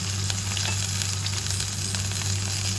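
Salmon frying in a cooking pan makes a dense, constant close sizzle with a low steady hum underneath, unbroken and with no talking.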